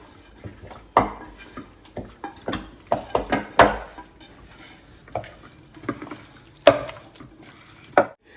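Chicken being mixed with spices for biryani, a series of irregular spoon scrapes and clacks against a pot, close and distinct, separated by short quiet gaps, with no voices.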